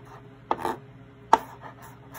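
A knife slices through fresh ginger on a cutting board while preparing beef noodle soup, giving two sharp, close cuts about a second apart with soft scraping in between.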